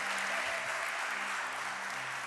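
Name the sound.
congregation applauding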